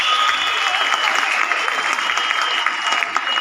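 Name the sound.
audience applause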